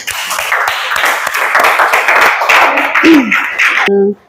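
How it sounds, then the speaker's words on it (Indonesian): An audience of students in a classroom claps after a group presentation, with a brisk, fairly close burst of applause that stops abruptly near the end. "Kita beri aplaus"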